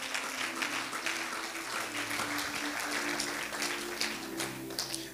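Church congregation applauding and cheering together during a sermon, a steady, dense wash of clapping with some voices mixed in, loud and continuous throughout.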